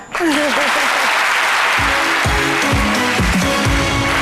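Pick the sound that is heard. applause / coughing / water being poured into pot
applause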